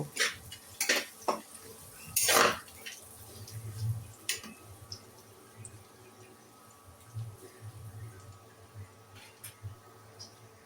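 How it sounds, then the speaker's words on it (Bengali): Onions being stirred in a cooking pan, browning while a chicken curry is prepared: a few sharp metal scrapes and clinks of a utensil against the pan, then quieter scraping and a low sizzle, with some speech. "আর একটু পেঁয়াজগুলো নাড়াচাড়া করব"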